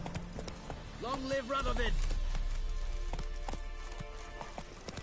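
Horse hooves galloping in The Witcher 3: Wild Hunt, quick rhythmic clip-clop thuds running under a loud spoken shout, with a short neigh-like tone near the start.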